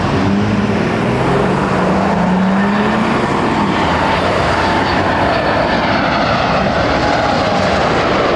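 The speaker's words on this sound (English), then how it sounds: "Find an airplane." A fixed-wing airliner passes at Toronto Pearson Airport, its engines a loud, steady broadband roar that fills the whole stretch without pause, with no voices over it.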